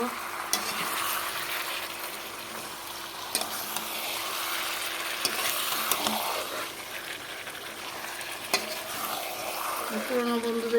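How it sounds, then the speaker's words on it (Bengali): Mutton being sautéed with spices in a pan, a steady close sizzle with scraping stirs and occasional sharp clinks of a utensil against the pan, no talking. "দেখো মটনটা মশলা দিয়ে কিছু কষানো হয়ে গেল"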